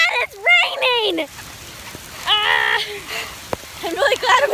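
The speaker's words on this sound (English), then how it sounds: "Look how bad it's raining!" Heavy rain patters on surfaces outdoors in a steady wash, mostly under excited voices talking and calling out loudly close by.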